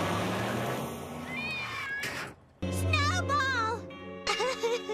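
Snowball II, Lisa's cartoon cat from The Simpsons, gives several drawn-out, wavering meows mixed with a voice speaking, with a brief quiet gap in the middle.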